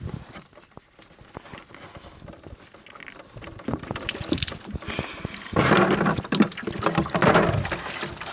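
Water sloshes and splashes inside a whole house water filter housing, quiet and sparse at first, then louder, busier bursts of liquid movement in the second half, close by.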